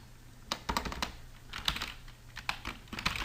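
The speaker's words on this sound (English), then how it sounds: "So I'm just going to type in some random text" Random text typed on a computer keyboard: quiet, irregular keystroke clicks in short bursts and single taps, close and alone with no voice.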